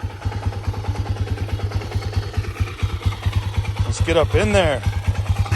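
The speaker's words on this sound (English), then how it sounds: "Polaris Predator 500." A Polaris Predator 500 ATV engine idles close by with a fast, even, throbbing putter, and someone talks over it partway through.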